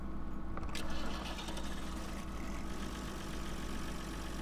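Combine harvester engine droning steadily in Farming Simulator 2013, a continuous loud mechanical hum with no talking over it.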